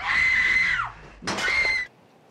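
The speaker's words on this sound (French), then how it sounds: "du hurlement d'effroi de la nurse" In a scene from the film Elephant Man, a nurse screams in terror with a loud, high, sustained shriek that breaks off, followed by a second shorter scream.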